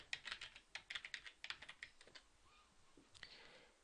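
Rapid keystrokes on a computer keyboard as a user ID and password are entered at a login screen, quiet, close-up clicks in quick uneven bursts, then a brief pause and a few more taps.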